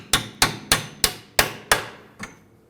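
Hammer blows tapping a strut bolt into place during fuel tank replacement on a 2005-2009 Subaru Legacy 2.5L H4, seven sharp metallic strikes at a steady pace, close and clear, the last one lighter.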